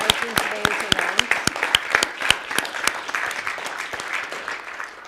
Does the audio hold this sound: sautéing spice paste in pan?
no